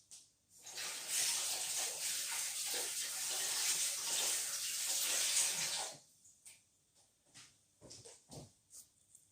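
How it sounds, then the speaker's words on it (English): Hands are washed under a running tap in a home. A steady, close rush of water lasts several seconds, then stops and gives way to faint drips, rubbing and light handling sounds. "Let me just wash my hands."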